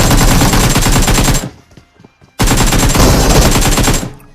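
Automatic gunfire in PUBG Mobile, a loud, close burst of rapid shots that stops abruptly, leaves a short quiet gap, then resumes in a second long burst before cutting off.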